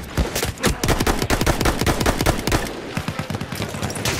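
Rapid, loud gunfire from Battlefield 1, with dense bursts of automatic fire and overlapping shots cracking steadily through the whole stretch with no pauses.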